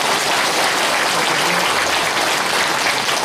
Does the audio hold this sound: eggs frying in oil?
no